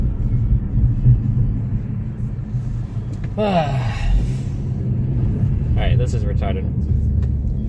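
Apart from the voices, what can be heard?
car driving in Destiny video game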